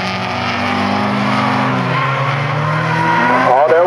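Folkrace cars at a Fjärås heat, with several engines roaring continuously as tires squeal and skid on the track, loud and close, with rising and falling engine pitch.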